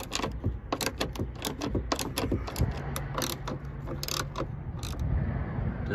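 A 10mm socket wrench ratchets repeatedly while bracket nuts are removed from a Porsche 991 GT3, giving steady close clicking with a brief metallic clank partway through.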